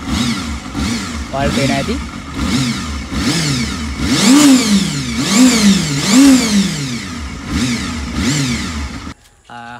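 A second-hand motorcycle engine starts up and revs repeatedly, rising and falling in several surging bursts close by. Someone talks over the engine throughout.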